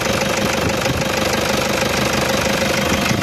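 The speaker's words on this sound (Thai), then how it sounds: "เครื่องแห้งเลย เครื่องดีนะครับไม่มีไอไม่มีน้ำมันเครื่องอักเสบนะครับ" A 2006 Toyota Fortuner 3.0V diesel with automatic transmission and four-wheel drive idles steadily, a loud, close, continuous engine rumble with a rhythmic knocking clatter and no pauses.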